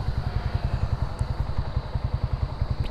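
A motorcycle engine idles close by with a steady, rapid low-pitched chug, its even pulsing running the whole time with no talk.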